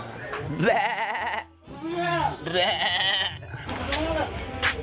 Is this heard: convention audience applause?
no